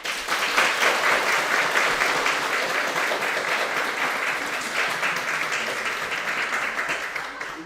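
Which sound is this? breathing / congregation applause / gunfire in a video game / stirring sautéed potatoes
congregation applause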